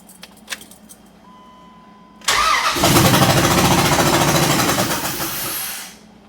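Keys jangle briefly near a 4.7L engine, then the starter cranks it over steadily for about four seconds, a loud, close, rhythmic churning that fades out without the engine catching.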